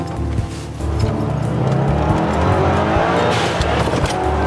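A tuned Subaru Legacy B4 with a parallel twin-turbo engine and six-speed manual accelerates loudly, the engine note climbing steadily close by, with a brief tire squeal.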